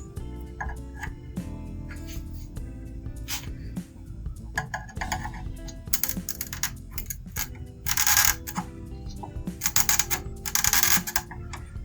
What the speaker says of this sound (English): I'm going to very gently lift each one of these ROMs out of the socket